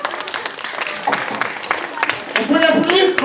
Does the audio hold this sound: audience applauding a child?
yes